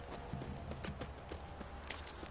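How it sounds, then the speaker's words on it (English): Horse hooves clip-clop in a steady walking rhythm, close and fairly loud, in The Witcher 3 video game, with faint background ambience and no talk. "Time to water the horse."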